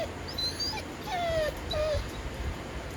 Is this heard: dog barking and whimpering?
yes